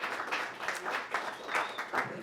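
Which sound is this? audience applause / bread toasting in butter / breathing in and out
audience applause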